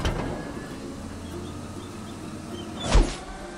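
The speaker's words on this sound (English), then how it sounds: "We're back inside the garbage truck." Steady low engine rumble from inside the cab of a big garbage truck while riding, with a brief louder mechanical whir near the end and no talking.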